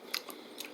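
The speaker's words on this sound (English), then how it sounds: "So I'm gonna grab my scissors" Two quick crisp snips of scissors blades closing, close and fairly quiet, with a short pause between them.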